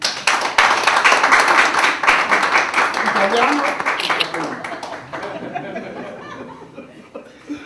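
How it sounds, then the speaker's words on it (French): A wedding crowd in Yaoundé claps and cheers in a lively burst, with laughter mixed in, then the applause gradually thins and fades toward the end. "on peut applaudir pour lui"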